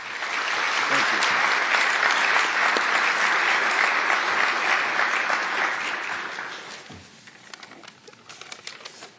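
Sustained applause fills a press conference introducing a new New England Patriots head coach, a dense even clatter of clapping for about six seconds before thinning out, with a few scattered claps and faint voices trailing at the end.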